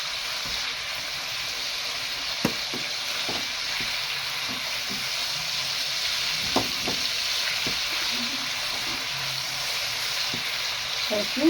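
Chicken liver and gizzards sizzle steadily in a pan while being stirred, with a constant frying hiss and intermittent scraping knocks of a utensil, close up; someone briefly speaks.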